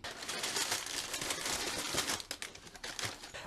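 Plastic packaging of a Lidl Playtive clip-brick set being opened, continuous close crinkling and crumpling with quick tearing rustles throughout.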